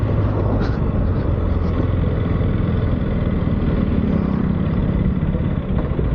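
A 2026 KTM Duke 250 motorcycle being ridden makes a loud, steady engine drone mixed with heavy wind rush, constant and unbroken throughout, with no talk.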